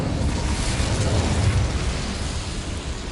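A roaring burst of magical flame from the Incendio fire spell in Hogwarts Legacy, cast inside a mine beside a boiler, a dense whooshing rumble that swells and slowly fades, loud and near.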